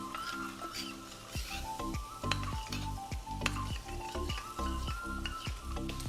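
Tomato ketchup is stirred into sautéed capsicum in a pan for tofu chilli, with a spatula scraping and knocking against the pan in repeated strokes over a soft sizzle, close and continuous.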